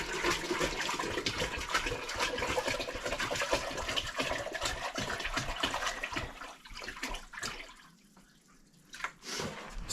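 Water is poured and flushed into a gravity-fed ceramic water filter at an off-grid cabin in Canada, a steady close splashing rush that thins and breaks up toward the end with a few scattered drips.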